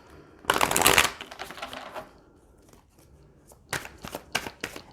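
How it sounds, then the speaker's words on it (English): Oracle cards from a Chakra Oracle Wisdom deck being shuffled and drawn, a loud riffling burst up close followed by softer handling and then several crisp card snaps and slides. "Let's pull from the Chakra Oracle Wisdom cards."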